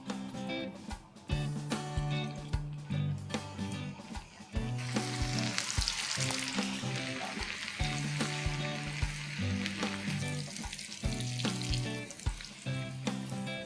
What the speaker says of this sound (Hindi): अब इसे हम हाथों से प्रेस करके और रीफ्राई करेंगे।